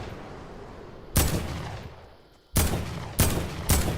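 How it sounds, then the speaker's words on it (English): Gunfire in Fortnite combat: three loud, close bursts of shots crack out, the first fading slowly and the later two arriving in quick succession, with no talking. "and then you just aim and shoot"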